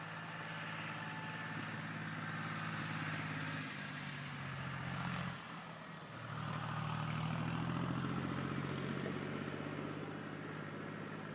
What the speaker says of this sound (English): You're probably going to hear the tractor go by.